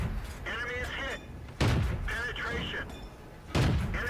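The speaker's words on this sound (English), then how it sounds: "So I switched to gold rounds to shoot the Matilda." Tank guns firing in the World of Tanks video game, two heavy booming shots about two seconds apart, set among clanking game effects.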